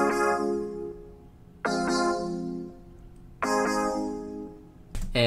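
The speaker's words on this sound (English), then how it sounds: "So I have the glass piano and the straight EP playing the same chords" A glass piano and a straight electric piano play the same chords together in an alternative pop production. Three sustained chords strike in turn, bright on top and warm in the mids, and each decays slowly. No voice is heard.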